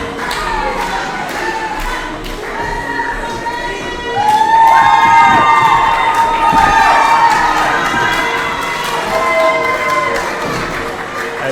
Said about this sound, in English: Big crowd here tonight. It's pretty clear who's the big favorite. Tommy Fusion getting one hell of a reaction.